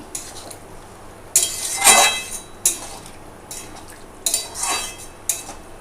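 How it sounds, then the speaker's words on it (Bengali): Spoon stirring a pot of banana flower curry cooked with hilsa fish head, then a lid set on: a few bursts of metallic scraping and clinking, fairly close, with quiet pauses between. "এবার আমি এটাকে নেড়ে চেড়ে ঢেকে দেব"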